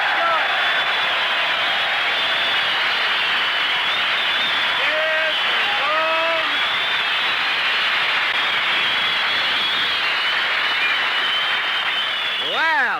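A studio audience on the Jack Benny radio comedy show applauds and cheers an entrance in a dense, loud, continuous roar, with scattered whistles rising above the clapping.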